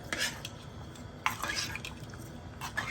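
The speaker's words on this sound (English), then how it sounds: "After adding salt, give it a good stir." Ash gourd gravy being stirred in a pot after salt goes in, soft wet sloshing with light spoon clinks against the pan, faint and close, no talking.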